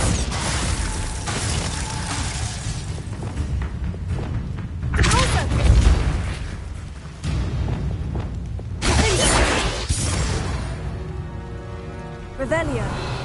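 Confringo and Glacius spell blasts in Hogwarts Legacy, repeated loud bursts and crackling impacts over continuous game noise, with a couple of sharper blasts standing out.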